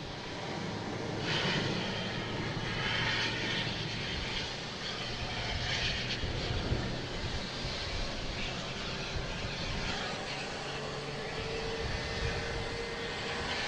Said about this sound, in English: we got Air Mexico coming in from Mexico City